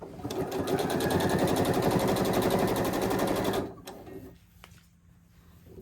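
A sewing machine stitching binding onto a quilt runs in a fast, loud, continuous rattling burst for several seconds, then stops, leaving a few quiet clicks and handling sounds.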